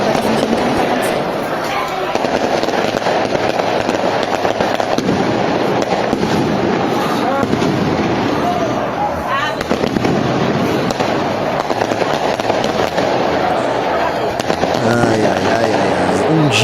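Fireworks set off by criminals celebrating crackle and pop in dense, irregular volleys across a wide area, sharp bursts overlapping one another at a loud, distant-to-mid range almost without pause.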